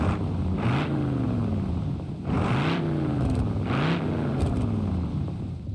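A Bruckell Nine car engine in BeamNG.drive, with its exhaust caps removed, revs three times in a row, each burst climbing in pitch, over a continuous idle drone.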